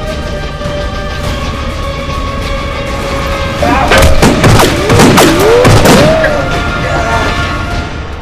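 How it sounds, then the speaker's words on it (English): A handful of sharp cracks and thuds, like gunshots at a distance, burst out in the middle of a steady background hum; no one speaks. "What was that? Sounded like gunfire."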